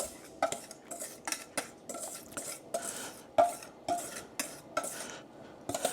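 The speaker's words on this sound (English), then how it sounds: "Let me get my spatula so I get all the goodness into the bowl." A spatula scrapes keto blondie batter into a bowl, a rapid run of close, sharp clicks and strokes against the bowl's sides, steady across the whole stretch with no talking.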